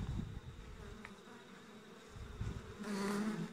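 Honeybees from a beehive just moved to its winter site, buzzing steadily and fairly loudly close by, with the hum swelling stronger toward the end.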